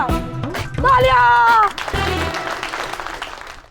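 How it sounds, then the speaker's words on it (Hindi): Applause from a crowd rises under a voice and loud cheering, then carries on at a moderate level as talking continues over it. "तालियां!"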